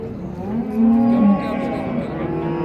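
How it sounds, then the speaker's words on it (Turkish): A native black cow moos once at a cattle market in Çorum, a loud close low call that rises and holds briefly over a busy background of people talking. "Kara sığır dediğimiz Memleketin yerli ineklerinden"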